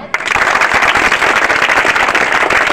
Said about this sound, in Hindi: बड़े ताली बजाओ